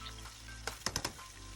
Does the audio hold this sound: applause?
no